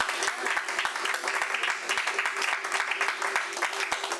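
A church congregation applauding, a dense, sustained clatter of many hands clapping with a loose rhythmic pulse, filling the room steadily with voices mixed in underneath.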